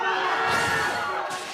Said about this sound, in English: if you're part of Team Evil, on the count of 3, let's hear your support